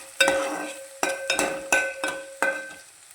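Onions frying in a pan, heard as a rhythmic series of five or six scraping stirs, each opening with a sharp clack and trailing into sizzle, close and moderately loud.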